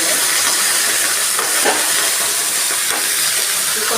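Green chillies frying in hot oil make a loud, steady sizzling hiss close by, with a couple of faint stirring clicks and no voices over it.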